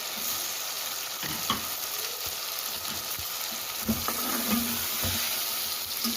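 Tomatoes with garlic-ginger paste and masala sauté in a pan for a cluster bean curry, giving a steady close sizzle with a few sharp stirring clicks and scrapes scattered through.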